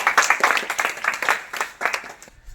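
A short burst of clapping from a small group, close by, uneven and quickly fading out.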